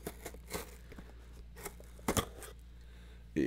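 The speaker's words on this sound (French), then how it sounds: "On va entamer la boîte en espérant ne rien déchirer" Scattered scraping and tearing noises with soft crinkles as a cardboard box is opened, a few short bursts separated by pauses, ending with a louder paper rustle.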